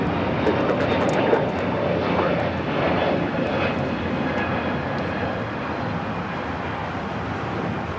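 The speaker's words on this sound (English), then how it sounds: "Have a United A321 Neo taking off here on the south side." A United Airlines A321neo jet takes off on the south side at Los Angeles airport, its engine roar steady and loud throughout, slowly easing as it climbs away.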